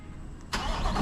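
A Chevrolet Corvette C8 Z06 with a Corsa exhaust is remote-started from the key: after a short quiet pause the engine catches abruptly and swells into a loud, close rumble at the very end.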